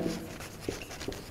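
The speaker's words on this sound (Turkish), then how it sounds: "Şurada bir tane not yazayım." A pen writing a short note, heard as faint, brief scratching strokes spaced about every half second, close and quiet with no talk.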